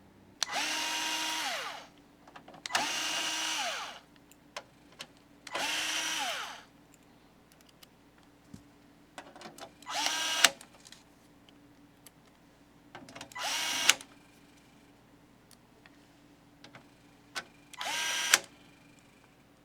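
Makita electric screwdriver with its clutch set to 7 driving power supply screws, five bursts of high whirring, each a second or two long, separated by quiet pauses, close and alone.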